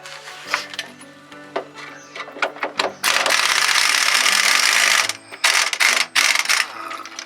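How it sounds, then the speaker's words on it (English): Bolts holding a Fiat Scudo front brake caliper being undone, with rapid ratchet clicks, metallic ticks and a sustained whirring burst from a powered tool, close and fairly loud, no talking. "That's the ones that hold this caliper on. So we've got to take those two off next."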